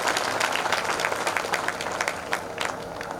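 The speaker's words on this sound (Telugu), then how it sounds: "ఫాతిమా మాతను గౌరవిస్తూ గట్టిగా చప్పట్లు కొట్టి కృతజ్ఞతలు తెలియజేస్తాం." A crowd claps warmly at the annual Our Lady of Fatima church festival in Nalgonda. The applause is a steady, dense patter that stays strong and then slowly tapers.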